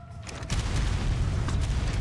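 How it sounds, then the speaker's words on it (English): A low rumbling explosion with a fireball in the video game ARK starts after a brief quiet moment and rolls on as a sustained, loud roar. "We didn't get hit by the explosion, but the fireball."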